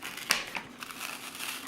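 Paper crunches and crinkles briefly during a craft job on a coloring page, with one sharp crackle near the start and softer rustles after it, close by and with no voices.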